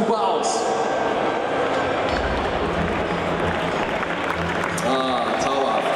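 Audience applause and cheering at a costume showcase, a dense steady wash of clapping that runs the whole stretch while people speak and music plays underneath.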